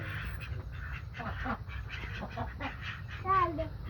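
Ducks and ducklings quack faintly at a backyard water bowl while a man pours water for them, with a louder burst of quacking near the end over low background noise and soft voices.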